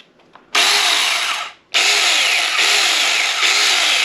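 A Saker battery-powered mini chainsaw whirs loudly with a high buzzing tone, stopping briefly before running steadily again.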